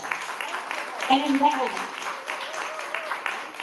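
Audience applause at the ReadersMagnet Confab Chicago 2024 conference, a steady patter of many hands clapping throughout, with a person speaking over it.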